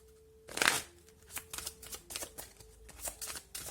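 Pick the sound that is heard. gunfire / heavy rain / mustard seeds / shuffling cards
shuffling cards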